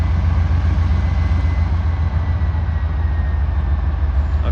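An Indiana and Ohio Railway freight train of gondola cars rolls past, a steady, loud low rumble and rattle that holds constant throughout with no pauses.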